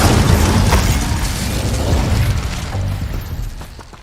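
The Incendio fire spell erupts in Hogwarts Legacy, a loud, close, sustained fiery blast with crackling bursts that slowly fade toward the end.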